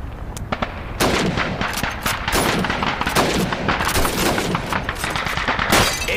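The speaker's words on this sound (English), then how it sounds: "Shoot those bottles and plates." Rapid rifle shots crack out at bottles and plates on a Call of Duty 2 shooting range, a dense run of loud, close reports with brief gaps between bursts.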